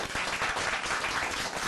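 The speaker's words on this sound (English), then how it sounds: "Then they begin to clap." An audience claps during a play at a festival. The applause is dense and continuous and fills the whole short moment.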